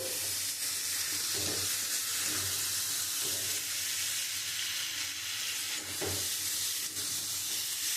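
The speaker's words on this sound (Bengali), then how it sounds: "আমি মশলাটা দিয়ে খুব সুন্দর করে কষিয়ে নিয়েছি" Spice paste sizzles and fries steadily in a pan for a curry of boal fish with potato and aubergine, with soft scraping stirs every second or so; there are no voices.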